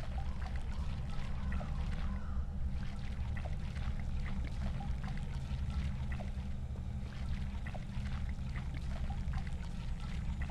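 A plant being watered in a co-op survival horror game: a continuous soft pouring trickle that holds steady for about ten seconds over a low droning background.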